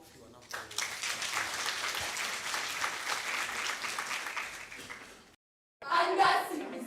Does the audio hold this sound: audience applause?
yes